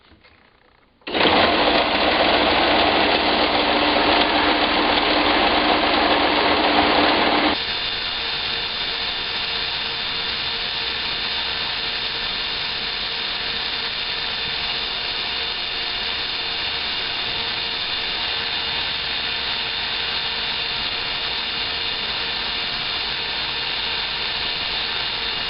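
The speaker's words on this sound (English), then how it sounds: "Now, over to the sander." Power sander shaping a wooden crankbait fishing lure, running loud and steady from start to finish with a slight drop in pitch partway through, no talking.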